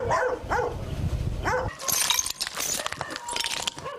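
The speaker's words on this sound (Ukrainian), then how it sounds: "Тільки пес прив'язаний залишився" A tied-up dog barks a few times amid a war-damaged ruin, the barks followed by clinking, rattling debris sounds.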